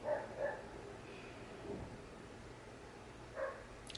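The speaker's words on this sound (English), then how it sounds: "And now my neighbor's dog is barking." A neighbor's dog gives a few faint, distant barks in two short clusters, one at the start and one near the end, over a quiet indoor background with no speech.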